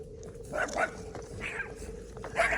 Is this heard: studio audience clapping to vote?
no